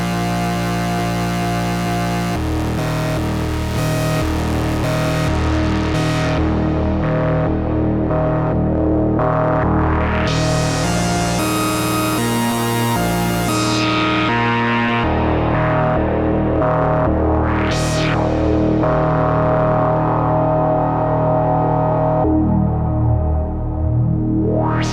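A Yamaha CS-15 synthesizer plays pulse-width-modulated tones with FM added, giving sustained, harmonically rich, distorted notes that shift in pitch, with sweeping bright bursts and swooping glides across a continuous, loud passage.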